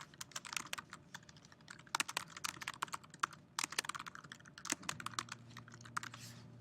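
Typing on a computer keyboard while setting up a resume, rapid irregular key clicks with occasional louder strokes, close and continuous, with a faint low hum toward the end.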